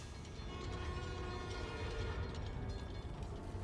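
A New York subway train in the video game Marvel's Spider-Man: Miles Morales rumbles along with a steady, loud mechanical roar and rattling clatter, continuous throughout, with no talking.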